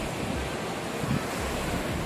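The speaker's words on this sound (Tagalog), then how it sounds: "Malaking alon." Ocean surf washes in a steady, dense roar at Starfish Beach Resort, big waves breaking continuously nearby with no voices.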